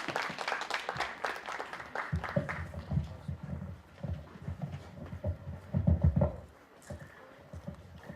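An audience at an outdoor literary contest event claps in fairly loud, patchy applause to welcome a speaker, the clapping thinning and swelling over several seconds.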